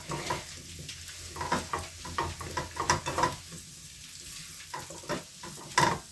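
Gnocchi sizzle and fry in butter with seasoning in a pan in a travel trailer kitchen, cooked for a vegetarian mushroom dish, with repeated stirring scrapes and soft clatters over a steady close crackle.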